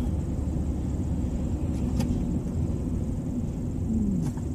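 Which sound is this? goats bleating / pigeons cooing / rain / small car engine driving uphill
small car engine driving uphill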